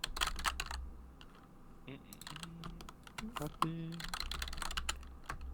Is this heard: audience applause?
no